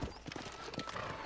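Horse hooves clip-clop in quick, uneven beats in Red Dead Redemption, close and moderately quiet over a short burst of game ambience.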